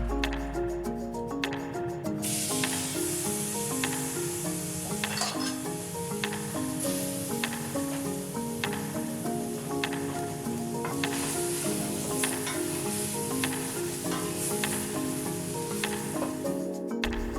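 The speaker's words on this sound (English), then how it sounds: "we're gonna go and throw our garlic in there first and get a nice brown onto it" Garlic sizzles steadily in hot avocado oil in a big pot, a continuous bright crackle with occasional small pops and stirring ticks, close and fairly loud throughout, no voices.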